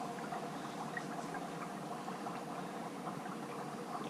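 Steady, dense bubbling and fizzing of dry ice in water, a continuous churning hiss without pause, close and moderately quiet.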